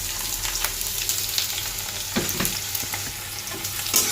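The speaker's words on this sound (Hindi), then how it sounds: "उसको जो प्याज काट के रखी थी वो डाल दूँगी।" Chopped onion going into a pan of already fried potatoes for a banana flower curry, a dense steady sizzle with stirring scrapes and spoon clicks, close and unaccompanied by voices.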